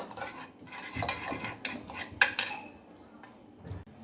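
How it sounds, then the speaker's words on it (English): A spoon stirs a fish marinade for baked pomfret after half a teaspoon of sugar goes in, clinking quickly against the bowl. The sound is quiet and close, with a few sharper scrapes and taps. "just a half teaspoon of sugar. Give a quick stir"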